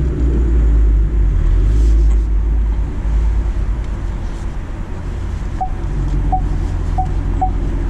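A 2019 Ford Mustang GT idles steadily after being shifted into reverse, a deep, loud low rumble close by with a few faint high beeps near the end, and no talking.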